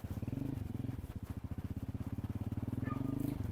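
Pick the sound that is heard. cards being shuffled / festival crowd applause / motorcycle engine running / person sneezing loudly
motorcycle engine running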